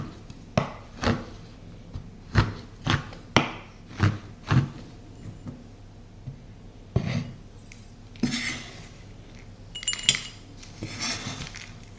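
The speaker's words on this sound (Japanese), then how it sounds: "このカットする音が好きなんですよね。" A knife chops chocolate into small 2–3 mm pieces on a board for twist bread rolls, sharp close knocks in quick bursts at first, then scattered softer cuts and scraping.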